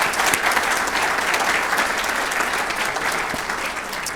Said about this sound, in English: Can we give our student champions a round of applause?